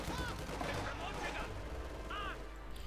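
An MG-42 machine gun fires in Company of Heroes 2 during a 2v2 match. Rapid bursts of gunfire rattle steadily amid dense battle noise, with a commentator's voice talking over the action throughout.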